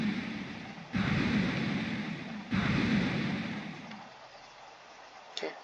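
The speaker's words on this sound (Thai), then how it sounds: "โอ้ยแต่ระเบิด" Explosions in the mecha action game HARDCORE MECHA, two sharp blasts about a second and a half apart, each followed by a loud, dense rumbling roar that slowly fades, with a small pop near the end.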